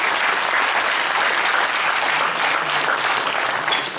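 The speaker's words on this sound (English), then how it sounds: "let's give a big round of applause to Ladakh Student Association Chandigarh" Loud, dense applause fills a seminar hall honouring a student association, a continuous wash of many hands clapping at an even level throughout.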